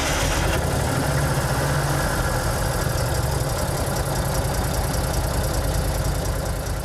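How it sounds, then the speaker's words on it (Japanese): A restored 1955 Daihatsu three-wheel fire truck engine runs at idle, a steady, loud, close mechanical chug that holds evenly without revving. "ちょっとエンジンかけてみます。"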